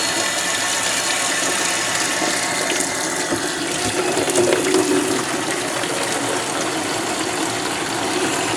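Hot water pours steadily from a tap in a continuous broadband rush, fairly close and unbroken throughout, with no voices.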